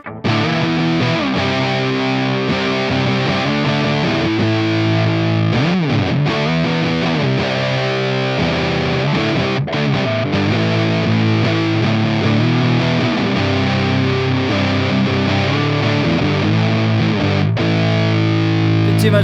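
Electric guitar played through a Big Muff fuzz pedal into an Overloud TH-U Slate Edition amp simulator, thick and saturated, with sustained chords and bending notes ringing continuously and loudly throughout.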